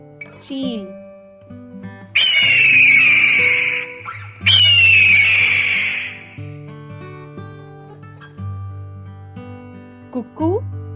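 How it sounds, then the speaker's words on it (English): An eagle gives two long, harsh, descending screeching calls in a row, loud and close, with a short voice heard before and after. "Eagle,"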